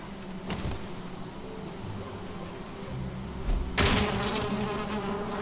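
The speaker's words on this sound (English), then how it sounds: "Oh, bees." Bees buzz in the Valheim video game, a close, steady insect drone that swells partway through, with a faint metallic clink over it.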